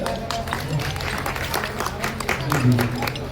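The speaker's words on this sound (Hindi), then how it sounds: "ताली से स्वागत करें, ताली बजाएं।" Audience applause welcoming couples at a mass wedding ceremony run by a community service society, steady clapping mixed with crowd noise and background music throughout.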